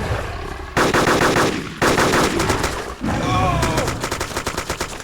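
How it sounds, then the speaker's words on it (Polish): Automatic gunfire in the video game DayZ, loud rapid bursts of shots in several volleys separated by short pauses, close and harsh with no speech over it. "O, i strzelaj, strzelaj, strzelaj!"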